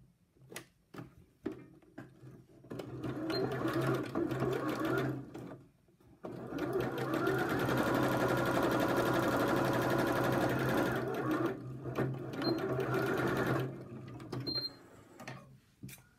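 A sewing machine runs a narrow seam in steady, rapid mechanical stitching that keeps a continuous hum. It plays alone in two long runs with brief pauses and some clicking between them.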